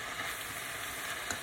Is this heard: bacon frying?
yes